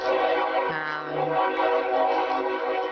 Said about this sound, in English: it's been quite busy on the railroad tracks today. Trains are hauling and delivering